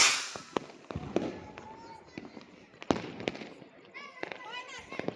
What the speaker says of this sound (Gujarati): રોકેટ કેવો જાય છે ખબર નહીં પેલા તો કીધું તો ઉપર જઈને 2 ધડાકા થશે